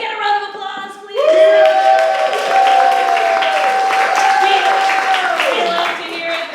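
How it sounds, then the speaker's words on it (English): An election-night live show audience claps and cheers loudly for several seconds, with whooping voices rising over the steady applause. "Can I get a round of applause"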